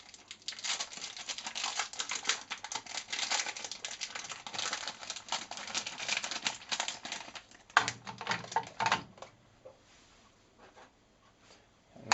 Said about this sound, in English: we're going to chop up the chocolate